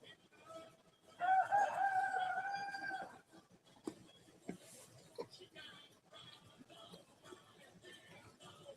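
A rooster crows from some distance, one drawn-out crow lasting about two seconds near the start, followed by quieter outdoor background sounds and faint scattered noises.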